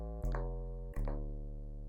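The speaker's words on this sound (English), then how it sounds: "You need to lower down the pitch so that you can get that boomy sub effect." A deep synthesized sub bass tone from a sine wave in Native Instruments Massive, pitched down low, hums steadily with two soft retriggers, quiet and alone with no talking.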